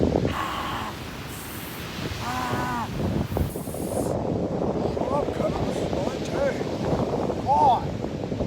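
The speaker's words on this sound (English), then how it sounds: "It is windy though. It is super windy." Strong gusty wind at Seal Beach buffets the microphone in a steady low roar, with faint bird calls and brief voices in the background.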